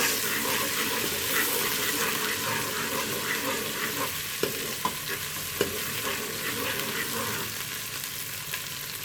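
Steady sizzling of garlic ginger paste frying in a pan, with a few soft clicks of stirring, continuous and close.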